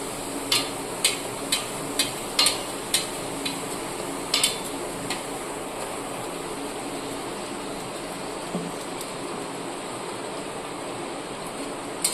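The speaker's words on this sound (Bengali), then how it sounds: "এবার ভেজে নিচ্ছি একটা সবুজ রঙের লুচি।" Green luchi frying in hot oil, a steady soft bubbling hiss with a series of light regular clicks early on, fairly quiet and without talk.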